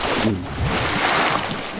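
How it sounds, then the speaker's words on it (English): A splash and churning surge of deep black water as someone plunges headfirst into it, loud and close, rolling like waves with a rushing wind-like wash throughout. "with arms flailing, you fall headfirst into deep black water"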